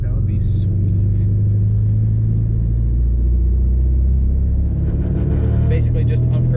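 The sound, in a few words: Porsche 944 engine during a gear change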